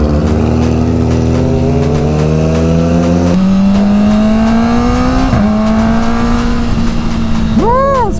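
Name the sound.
Kawasaki Ninja ZX4-RR motorcycle with titanium exhaust riding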